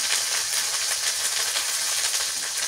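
Onion, cumin and garlic paste fry in a pan in a Bengali village kitchen, producing a loud, even, close sizzling hiss that continues without a break and with no voices.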